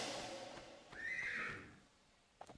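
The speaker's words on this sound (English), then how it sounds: "he's just making fucked up horse noises out there" A horse neighs in the Tomb Raider 1 video game, a loud, rising whinny lasting about half a second that trails off, followed by a couple of faint clicks near the end.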